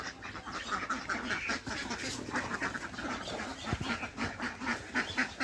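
Ducks quacking in a flock, a steady run of overlapping calls through the whole stretch at moderate distance, outdoors in a rural yard with no talking.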